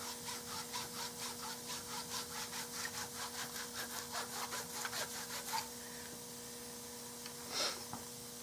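Cloth wiping excess stain off a checkered wooden forearm for a Browning Superposed 12 gauge shotgun makes quick, rhythmic rubbing strokes for about five seconds, then a pause with a couple of faint scrapes.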